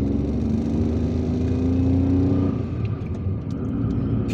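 A car drives through the streets of Algiers onto a wide city boulevard, its engine a steady, close rumble and whir that eases slightly toward the end, with no voices.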